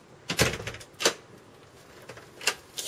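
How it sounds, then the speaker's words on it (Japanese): A white door with a silver doorknob in an entrance hall swings shut, giving a sharp close click and latch snap, followed by a few lighter clicks and taps spaced out against quiet indoor background. "綺麗にドアが閉まりますね。"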